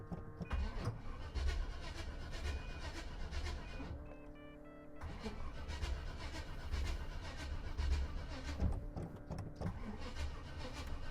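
A car engine turns over with rhythmic cranking, pauses briefly, then cranks again; quiet and somewhat distant.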